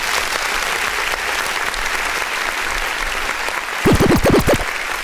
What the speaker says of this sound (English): Let's just give him one last round of applause.